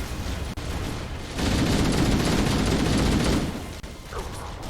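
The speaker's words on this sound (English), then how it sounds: "Plenty of gunfire." Rapid automatic gunfire in Halo: Combat Evolved, a sustained loud burst of firing in the middle over continuous game ambience, with a few sharper isolated shots before and after.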